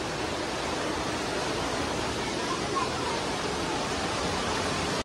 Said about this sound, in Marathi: मंदिरातून मधीतून झरा वाहतो